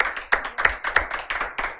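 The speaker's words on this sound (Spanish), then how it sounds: "vamos a darle un fuerte aplauso a Cristo Jesús" Applause from a church service audience, a run of sharp rhythmic claps repeating steadily, fairly close and moderately loud.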